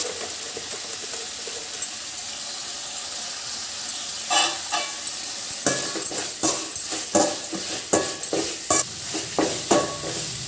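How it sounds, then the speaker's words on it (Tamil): Dried anchovies sautéed and stirred in a pan for a village-style karuvadu thokku, with a steady background sizzle and a run of close, irregular scraping and clinking strokes from the spatula, no talking. "இப்போ நம்ம இதோட ஊற வச்சு எடுத்த அந்த கருவாடையை சேர்த்து நல்லா வதக்கி எடுத்துக்கலாம்."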